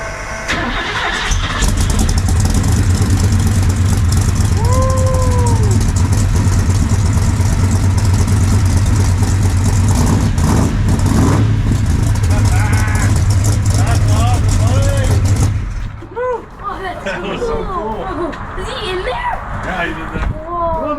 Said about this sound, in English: You ever heard a monster truck in real life?